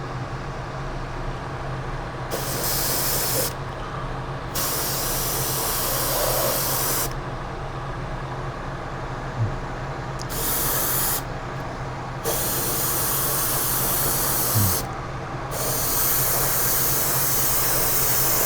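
An airbrush or spray can coats a model figure with paint in steady hissing bursts that repeatedly start and stop, close and fairly loud, with no talking.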